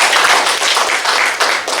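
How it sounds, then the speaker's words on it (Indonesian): Audience applause at a ceremony where the Malang mayor inaugurates the city's PGRI teachers' association board: a dense, steady burst of many hands clapping, loud and continuous for under two seconds. "Tepuk tangan"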